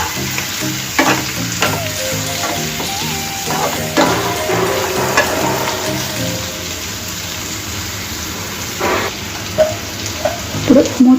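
Capsicum curry with salt and chili powder is stirred in a hot pan, a steady sizzle with repeated spoon scrapes and clinks against the pan, close and continuous.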